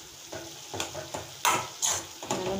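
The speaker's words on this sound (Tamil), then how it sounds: "நல்லா மிக்ஸ் பண்ணிடலாம்." A spoon stirs spiced chicken stuffing in a pan, giving a few uneven scraping and clinking strokes over a soft sizzle, close and moderately loud, with no talk.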